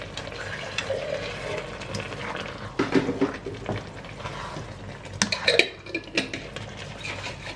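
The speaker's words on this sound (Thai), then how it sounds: "เติมน้ำนิดนึง" A splash of water goes into a pan of beef bolognese sauce as it cooks, bringing a hissing sizzle and bubbling with scraping stir strokes and a few sharp clinks.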